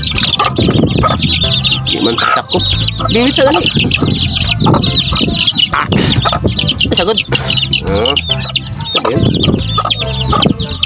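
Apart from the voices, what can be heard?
chickens clucking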